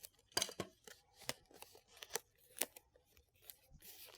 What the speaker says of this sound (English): I'm going to grab some tape, tape down the ends.